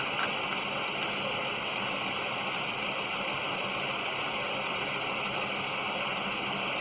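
A 2006 Pontiac Grand Prix engine idles steadily, a constant even hum with a broad hissy wash over it, unchanging and moderately quiet, no speech.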